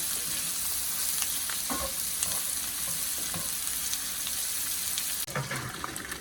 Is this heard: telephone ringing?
no